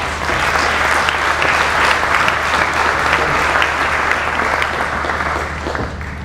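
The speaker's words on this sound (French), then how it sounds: "Vous pouvez l'applaudir, Mathieu Guéné." Sustained applause from a large crowd at an inauguration ceremony for a multi-energy station in La Roche-sur-Yon, a dense steady wash of clapping that fills the whole stretch and eases slightly near the end.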